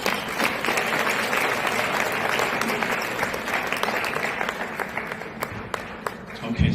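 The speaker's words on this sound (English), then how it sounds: "Can we get another round of applause?" Audience applause at a large convention speech event, a dense sustained wash of many hands clapping at steady loudness throughout, tapering slightly at the end.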